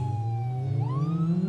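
A police car siren wails steadily in the driving game BeamNG Drive, its tone sweeping upward partway through over a constant engine drone, loud and continuous with no talking.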